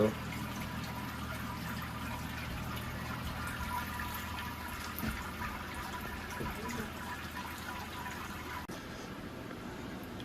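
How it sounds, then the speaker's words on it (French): Water running and splashing while rinsing home beer-brewing equipment during a second Christmas-beer brew, a steady continuous wash of flowing water with faint trickles and drips throughout, no talking. "On va pouvoir commencer à utiliser l'eau pour rincer ça."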